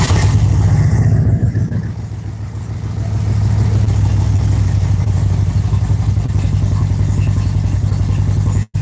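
A fuel-injected twin-cam engine on a Suzuki Marauder motorcycle cranks, catches and settles into a loud, steady, throbbing idle close by, with a brief dip as it fires and an abrupt cut at the very end.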